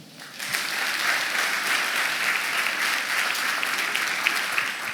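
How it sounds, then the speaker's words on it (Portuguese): A church congregation breaks into loud, sustained applause after a brief quiet start, a thick steady wash of clapping hands that holds evenly to the end. "Aplauda o Senhor."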